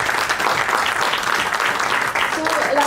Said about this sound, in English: So I think a huge round of applause for all of you.